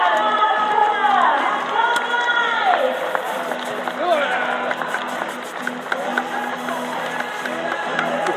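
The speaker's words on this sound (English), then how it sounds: "One more round of applause to show the appreciation to this man, Mark Cossar." A crowd at a speedway stadium during the British Sidecar Speedway Championship final applauds and cheers beneath a voice amplified over loudspeakers, the clapping and shouting rolling on steadily throughout.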